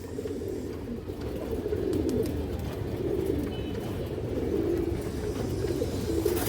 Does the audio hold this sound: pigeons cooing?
yes